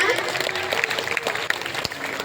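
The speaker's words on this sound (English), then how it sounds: "So let's give a big round of applause for Urmila ma'am." At a Children's Day celebration, an audience applauds with a fairly quiet, continuous clatter of clapping that runs for a couple of seconds, with voices faintly mixed in.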